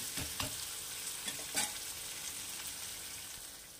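Oil sizzling in a pan as food fries, with a few scraping stirs of a spatula near the start; no talking.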